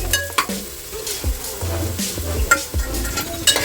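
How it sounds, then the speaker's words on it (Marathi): Spoon stirring chopped tomatoes into browning onions in a pan for a Maharashtrian prawn curry, with repeated scraping strokes and metal knocks over a constant sizzle, close and without speech. "आता मी ते टोमॅटो घातलेला आहे ते मी व्यवस्थित असं हलवून घेते"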